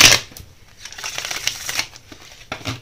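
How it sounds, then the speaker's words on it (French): Tarot cards being shuffled by hand, a few seconds of crisp, papery riffling and slapping with uneven bursts, close up and without talk. "On va battre les cartes."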